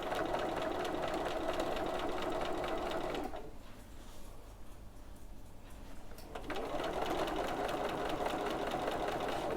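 A sewing machine runs steadily while stitching piping onto a bag panel, pausing briefly with the needle down for about three seconds before resuming its even, close mechanical whir.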